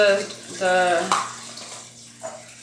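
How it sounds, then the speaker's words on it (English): Running water from a tap rinses canning jars in a kitchen while chicken thighs are being pressure canned, a short splashing flow under a person speaking. "rinse the jars before we seal that, before we put the lids on and seal them"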